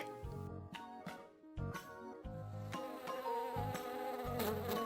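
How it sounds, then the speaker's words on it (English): A bee buzzes in a steady, continuous drone over soft background music, faint and unbroken throughout. "A bee says bzz."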